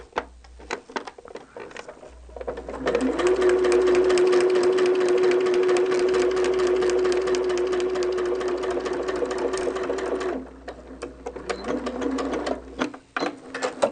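A sewing machine stitches through thick, bulky seams where many fabric layers meet, starting with short bursts, then running in a long steady stretch before slowing to stop-start stitching near the end.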